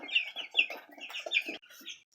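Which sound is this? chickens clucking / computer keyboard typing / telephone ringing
chickens clucking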